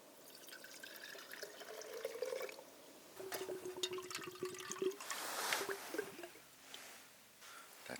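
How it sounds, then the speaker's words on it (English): Warm water poured into a frozen-over bottle to melt the ice, outdoors at a winter backpacking camp around 17°F/-7°C; a close, splashy, gurgling pour with some dripping, running steadily for several seconds, no talking. "I'm going to pour it into here to melt the ice so I can have some coffee."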